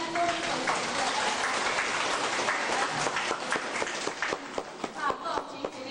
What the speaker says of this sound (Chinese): 咱以热烈掌声来鼓励咱